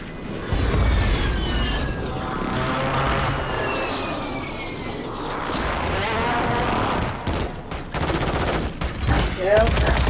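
Rapid video game gunfire, bursts of automatic weapon shots and booms mixed with engine or aircraft noise. The sound is dense and continuous at the start, then sharp broken bursts toward the end, with some speech.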